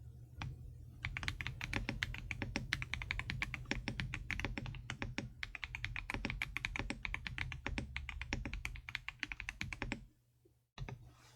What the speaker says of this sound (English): if you like a good keyboard